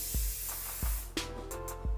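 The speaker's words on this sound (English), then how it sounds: "You just spray." A few short bursts of aerosol hairspray hissing close by, spaced out over a couple of seconds with brief pauses between sprays.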